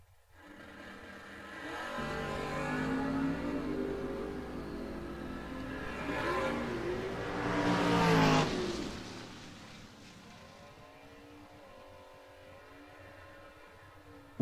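Drag racing cars at a strip, a Fox body Mustang and a New Stanton, Pennsylvania Chevelle, launching and accelerating hard, engines roaring louder and climbing in pitch through the gears, peaking, then fading into a distant drone.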